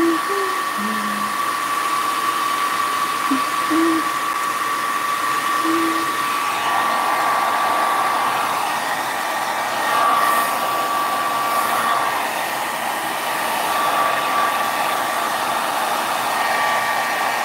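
A hair dryer blows steadily on alcohol inks, a continuous close whirring hum that holds for the whole stretch with slight swells partway through.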